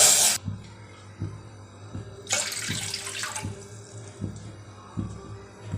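Water is poured from a bowl into a pot to make khichu dough, giving a short splashing gush partway through, with soft rhythmic knocks and a quiet pause on either side.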